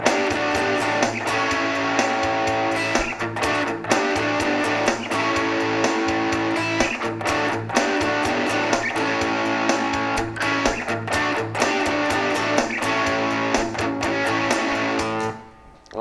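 Distorted electric rhythm guitar churns out chugging power chords over a ringing open A bass note, loud and sustained with steady rhythmic accents, fading out sharply at the very end.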